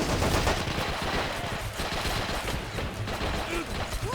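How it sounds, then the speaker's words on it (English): Rapid bursts of heavy machine gun fire in Men of War: Assault Squad 2 crackle continuously, dense and harsh, with a gritty game-like mix and no pauses. "So he's raking these bushes here with some gunfire."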